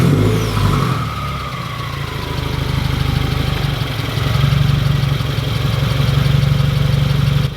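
A Subaru WRX with a Tomei catback exhaust that hits the drivetrain starts up, then settles into a loud, close, steady idle with a deep, rumbling burble.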